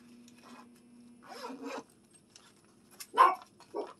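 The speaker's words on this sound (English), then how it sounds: "And a little zipper." A bag zipper is opened and closed in a few short, quiet rasps, with pauses between them, close by against a faint background hum.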